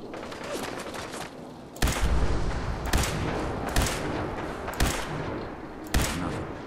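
Gunfire in Fallout 4: Far Harbor, a legendary enemy firing in sharp bursts roughly once a second, five or six loud shots spaced over steady in-game background noise.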